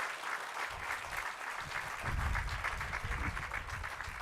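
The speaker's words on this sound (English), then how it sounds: "I would like to ask you to give a hand of applause as we close this event here this afternoon." Audience clapping as the 2025 World Rangers Day event closes in the afternoon; a close, full burst of hand claps that swells partway through and holds steady to the end.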